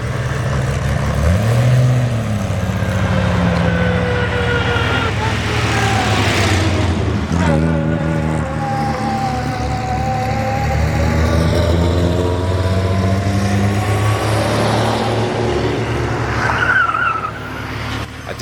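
Several classic BMW cars with large kidney grilles drive past one after another on the Stelvio Pass mountain road. Loud engines rise and fall as they pass close by, with no talking.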